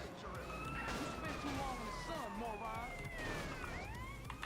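Police siren wailing in GTA San Andreas Definitive Edition, a rising and falling tone running through the whole stretch amid game noise, with a voice talking over it.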